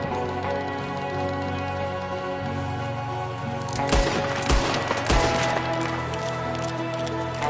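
Gunfire in Red Dead Redemption 2, several heavy shots cracking out midway over a constant background of music and ambience, loud and fairly close.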